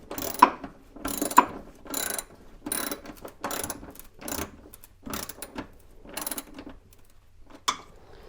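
A hand ratchet clicks in repeated bursts while driving a screw into the radiator core support of a C3 Corvette, each burst a close, dry run of pawl ticks separated by short pauses, with no talking.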